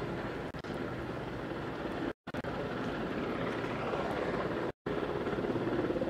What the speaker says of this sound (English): Helicopter is low.